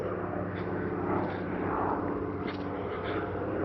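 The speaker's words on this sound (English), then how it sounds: "A Harbour Air seaplane coming in from Victoria" Harbour Air seaplane flying in from Victoria toward Vancouver, a steady broad drone of its engine, moderately loud and continuous outdoors with no talk.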